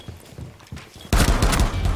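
Rainbow Six Siege gunfire: a few scattered shots and clicks at first, then a loud, dense burst of rapid shots close by in the final second.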